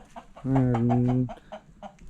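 Chickens cluck while being shut into a farm coop: one loud, drawn-out call dominates the middle, with softer short clucks before and after it, close by.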